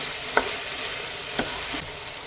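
Diced potato, beetroot, carrot and beans sauté in oil for pulav, a steady close sizzle broken by two sharp utensil knocks against the pan and a brief stirring scrape.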